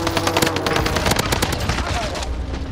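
Rapid bursts of automatic gunfire from an enemy's weapon in a video game, loud and close, crackling almost continuously for a few seconds.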